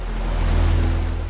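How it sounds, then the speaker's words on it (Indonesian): A tiered waterfall with abundant water in a forest gives off a steady, dense roar of rushing water that holds evenly throughout, with no voices. "Air terjunnya bertingkat dengan air yang melimpah membuat spot ini sangat instagramable."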